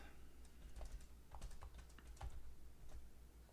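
Soft, irregular keystrokes on a computer keyboard, close and fairly quiet, in scattered bursts with no talking over them.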